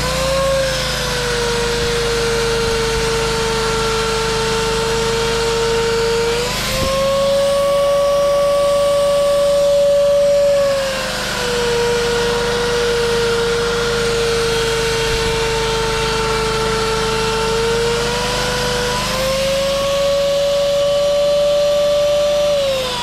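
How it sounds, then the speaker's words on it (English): A belt sander whines loudly on wood, its pitch dipping and rising in slow cycles as it's pressed and eased, running continuously. "Let's get sanding."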